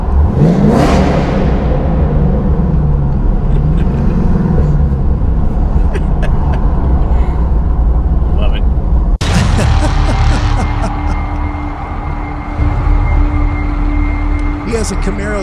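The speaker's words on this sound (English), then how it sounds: "It's a Camaro ZL1. I think it's the fifth generation." A fifth-generation Chevrolet Camaro ZL1 engine runs loudly and up close, its revs rising and falling in sweeps, then shifting to a new steady drone midway through.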